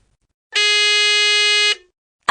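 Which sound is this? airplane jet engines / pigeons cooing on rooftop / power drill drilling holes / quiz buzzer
quiz buzzer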